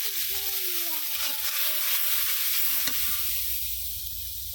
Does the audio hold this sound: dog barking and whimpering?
no